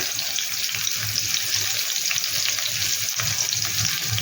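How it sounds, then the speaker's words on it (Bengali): Potato pieces fry in a pan of hot oil for a water spinach (kolmi sag) dish, giving a dense, even, close sizzle that holds steady throughout. "আমি আলুগুলো প্রথমে দিচ্ছি বন্ধুরা, কারণ আলু ভাজতে একটু টাইম লাগে।"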